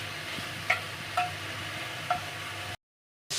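Chicken breast cooking in leftover marinade oil on an iron griddle gives a steady low sizzle, with a few light utensil ticks on top, then a brief cut to silence.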